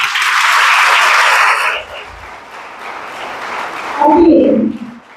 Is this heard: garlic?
no